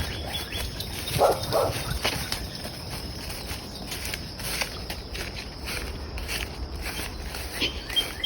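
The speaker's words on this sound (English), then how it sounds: "Oh, dogs are up." Dogs barking outdoors near a rural property in Hawaii, a few sharp barks early on, moderately distant, over footsteps and ambient outdoor noise.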